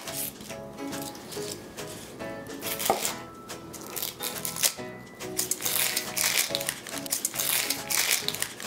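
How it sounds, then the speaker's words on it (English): Knife chopping an onion into chunks for an Indonesian yellow coconut chicken sauce, a dense run of quick cutting and crunching strokes on a board, close and fairly steady, with rustling between cuts and no talk. "I'm going to cut my onion into chunks as well"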